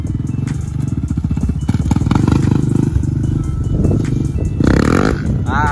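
A Honda XR100 dirt bike engine revving hard during a wheelie on grass, a loud close buzzing exhaust that climbs and falls in pitch with throttle blips.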